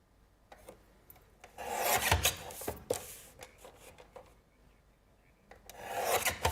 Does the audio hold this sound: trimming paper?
yes